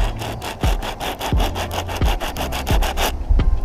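A sponge sandpaper block is rubbed back and forth along the rough edge of a brake pad, producing rapid, rhythmic close scratching strokes that stop abruptly near the end.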